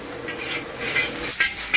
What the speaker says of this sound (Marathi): व्यवस्थित भाजून घेणार आहे पूर्ण मसाले.